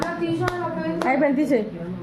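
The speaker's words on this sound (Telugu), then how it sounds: "క్లాప్స్ కొట్టండి." A few sharp hand claps ring out at a slow, uneven pace at a small birthday party, mixed with voices talking nearby.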